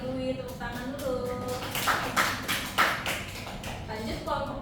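A classroom of students applauds a classmate with a short burst of scattered clapping, heard in the middle of a teacher talking before and after.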